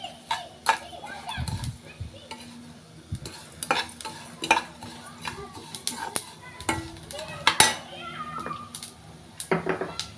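White sesame seeds roasting in a pan for a curry leaf powder, dry rustling stir strokes and light scraping at an irregular rhythm, with faint sizzling and occasional background sounds.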